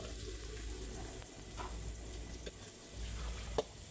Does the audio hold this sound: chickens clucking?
no